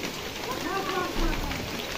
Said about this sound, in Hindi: ये देखो भाई साहब क्या खतरनाक बारिश होने लगी।